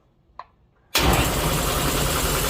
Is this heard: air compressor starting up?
yes